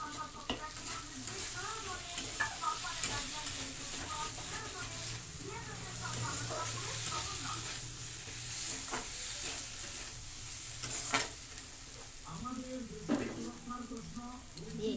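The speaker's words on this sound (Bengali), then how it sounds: "আলুটা দিয়ে একটু কষিয়ে নিয়েছি।" Fried potatoes are stirred and sautéed in a pan with spices, cashews and raisins: steady soft sizzling with intermittent scraping of the spoon, under occasional speech.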